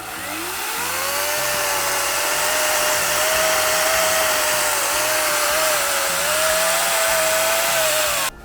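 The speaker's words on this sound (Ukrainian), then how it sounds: "набагато легше йде в дерево, набагато легше пилі працювати" A small cordless chainsaw with a STIHL chain cuts wood, running steadily at high revs for about eight seconds, a continuous loud whine with a low rhythmic drone beneath, then cuts off abruptly.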